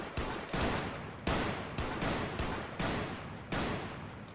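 Rifle shots ring out at a shooting range, about seven sharp, loud reports at irregular intervals, each with a short decaying echo, close and unaccompanied by talk.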